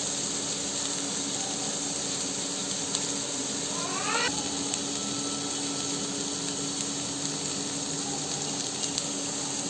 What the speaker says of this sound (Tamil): இப்போ பாத்தீங்கன்னா காய்கறி லைட்டா வதக்கி வந்துருச்சு